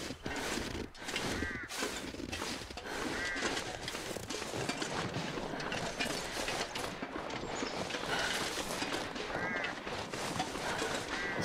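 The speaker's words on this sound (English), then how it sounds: "Bird sounds like a phone's vibrating." Bird calls in the snowy wilderness of the survival game The Long Dark, a series of rough, croaking cries repeating over a steady mechanical background, fairly faint and alone without speech.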